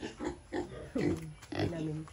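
A pig grunts repeatedly at a farm among coconut trees, short low grunts spaced through the clip, fairly close, with a person speaking over them.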